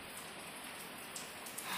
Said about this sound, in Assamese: ইয়াতে কিনকিনীয়া বৰষুণ আহি আছে